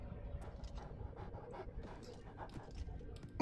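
A dog in the video game Oblivion Remastered pants rapidly and rhythmically, with soft breathy puffs at a close but fairly quiet level.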